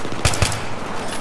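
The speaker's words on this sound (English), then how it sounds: "Someone's shooting me" Short burst of Battlefield 3 gunfire: two sharp shots close together near the start, then a dense, steady wash of combat noise that stays loud for the rest of the moment.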